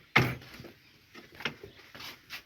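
A heavy wooden door, knocked down by a storm, thumps loudly once near the start, then gives several softer knocks and scrapes as it is shifted and set aside at home.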